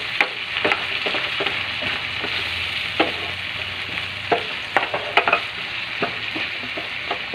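Vegetables stirred with fish bagoong in a hot pan for ginisang gulay, a constant bright sizzle under frequent quick scraping and tapping strokes of the spatula, close up with no voices.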